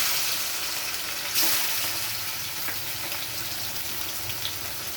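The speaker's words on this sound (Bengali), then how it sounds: "আলু তুলে নিয়ে আমি একটু চিংড়ি মাছগুলো ভেজে নেব।" Prawns fry in a pan, a dense continuous hissing sizzle with a short bright spatter burst early on, close and fairly loud, with no voices.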